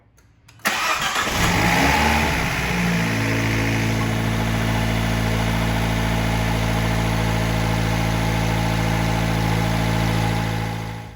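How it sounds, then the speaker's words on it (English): A Fiat 124 Spider Abarth engine cranks and catches after a short pause, then settles into a loud, steady idle with a deep, even drone that holds for about ten seconds and fades at the end. "we're gonna go ahead and start the vehicle, let it run for about 30 seconds"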